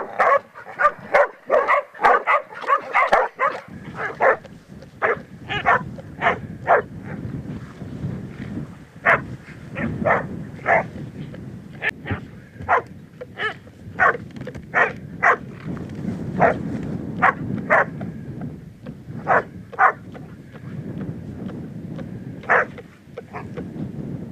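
Hunting dogs barking at a boar repeatedly in sharp, irregular bursts, several animals at once, with rustling and low rumbling underneath; barks loud and close.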